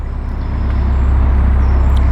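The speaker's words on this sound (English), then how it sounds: "You forget how busy traffic is when you've been in the countryside for a while" Dense road traffic near the M6 motorway makes a loud, continuous roar of cars and trucks, rising slightly and holding steady.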